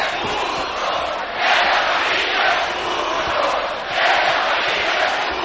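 An arena crowd at a wrestling event roars continuously, swelling into louder surges of cheering and shouting twice, with no clear single voice standing out.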